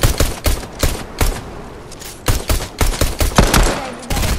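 Rapid gunshots crack out in quick volleys in the battle royale game Fortnite, loud and close, a dozen or more sharp reports in uneven bursts with short pauses and no talking over them.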